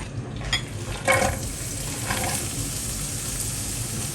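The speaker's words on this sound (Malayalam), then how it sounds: "ഇപ്പോൾ നമ്മുടെ വെളിച്ചെണ്ണ ചൂടായിട്ടുണ്ട് പിന്നെ ഇതിനകത്തേക്ക് ഞാൻ സവോളയും പച്ചമുളകും ഇടുകയാണ് കേട്ടോ" Onion and green chili frying in hot coconut oil for a potato and egg white thoran, a steady close sizzle with a few louder crackles and stirring scrapes near the start, no voices.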